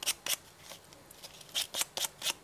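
Scissors snip through a sandpaper sheet being cut for a homemade knife, a series of faint, crisp, rhythmic cuts in short bursts with a pause in the middle.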